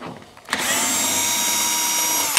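A power screwdriver removes a screw from a Dacia Sandero Stepway III front grille, starting after a short pause with one loud, steady, close whir.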